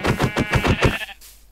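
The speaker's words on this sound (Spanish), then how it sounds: "Me llevo esta cabra." A goat in Minecraft bleats in a loud, rhythmic run of about six quick wavering pulses, then cuts off into near silence.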